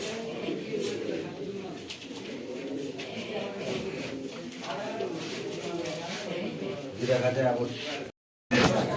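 Racing pigeons coo steadily at a pigeon club tournament's receiving point, layered soft throaty calls with people talking and a busy crowd murmur underneath, broken by a brief dropout near the end.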